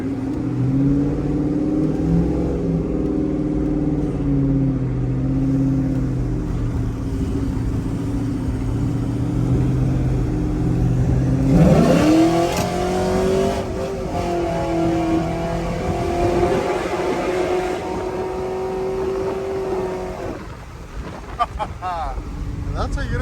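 A cammed GMC Sierra with equal-length headers and a tiny exhaust accelerates onto a freeway. Its droning engine note climbs sharply in pitch midway as it pulls hard, with cabin rumble and wind noise throughout.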